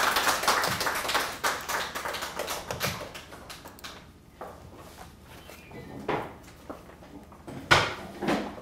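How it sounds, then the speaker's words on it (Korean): A small audience at a mothers' school lecture gives scattered, uneven claps to welcome a speaker. The sharp individual claps come in bursts with quieter gaps between them, close by in a room. "뜨거운 박수로 환영해 주시기 바랍니다"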